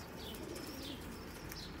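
Pet pigeons kept by a breeder, soft cooing and chirps with faint wing movement, close and quiet against low background noise.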